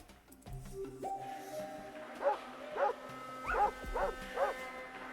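Dog in Fallout 2 barking, a run of about five evenly spaced woofs at moderate distance, following a few low game tones and electronic sounds.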